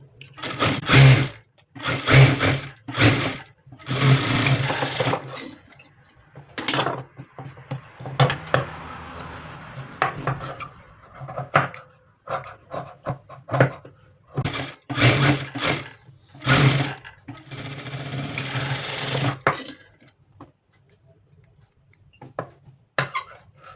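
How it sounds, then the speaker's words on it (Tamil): A sewing machine runs in repeated short bursts while stitching the side seam of a blouse, each burst clattering loudly and close, separated by brief pauses. "இப்போ சைடு தையல் எக்ஸ்ட்ரா ஒரு 3 தையல் போட்டுக்கலாம்."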